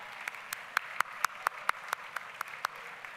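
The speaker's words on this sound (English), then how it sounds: "I want you to say thank you with some enthusiastic applause for their support throughout your life" Graduates at the 2014 Otterbein University commencement applaud their families and friends, heard as a quiet, evenly spaced series of sharp claps in steady rhythm, about four per second, with no voices over it.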